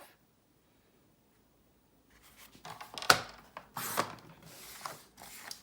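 Heavy cardstock sheet trimmed to 5.5 inches for a stacked mini folio, quiet and close: after silence, a few scraping slides and short sharp cutting crunches, unevenly spaced.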